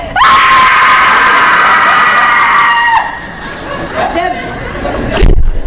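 A voice imitates a blood-curdling scream, a loud sustained high-pitched shriek lasting about three seconds, followed by an audience breaking into laughter and chatter.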